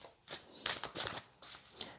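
Tarot cards riffled and shuffled by hand in several quick, close papery bursts over a couple of seconds.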